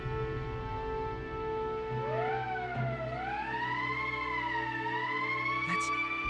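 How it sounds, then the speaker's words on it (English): An emergency siren in the Valkyria Chronicles video game rises and falls in long, wavering wails over steady background music, loud and continuous with no talking. "That's the emergency siren."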